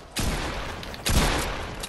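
Gunfire in a shooter video game: two loud, sharp blasts about a second apart, each trailing a broad echoing tail, with no voice over them.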